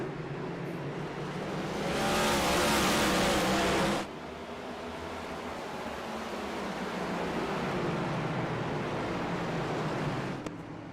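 Race car engines in a virtual NASCAR race at Martinsville Speedway in a video game, a continuous droning roar that swells as cars pass and then settles into a steady engine hum.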